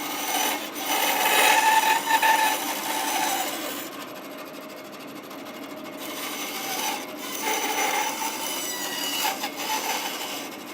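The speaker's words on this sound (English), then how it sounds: "when you have a big, thick resaw blade like this, you kind of think of it like as a chainsaw blade" A bandsaw fitted with a thick resaw blade cuts letter shapes from wood, giving a steady rasping, grinding buzz that swells and eases as the cut progresses, loud and close with no talk.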